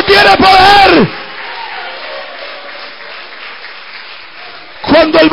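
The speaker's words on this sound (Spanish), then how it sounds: "¿Cuánto pueden dar un aplauso a Cristo?" A church congregation breaks into loud applause mixed with cheers, then it fades to a softer crowd wash. A preacher's voice is heard at the start and again at the end.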